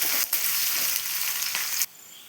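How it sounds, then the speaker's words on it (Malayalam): Dried red chillies, curry leaves and chopped shallots frying in hot oil, a loud, dense crackling sizzle with a few brief sharp pops that drops away abruptly near the end. "രണ്ട് വറ്റൽമുളക് നുറുക്കിയത് ഒരു തണ്ട് കറിവേപ്പില ഒരു മൂന്ന് ചുവന്നുള്ളി അരിഞ്ഞത് ഇത്രയും ചേർത്ത് ഒന്ന് മൂപ്പിച്ചെടുക്കാം"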